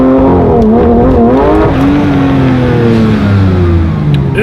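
A rebuilt 2024 Porsche GT3 RS engine revs hard and close, its sharp wailing pitch rising and falling through several quick blips before easing down into a lower, steady idle.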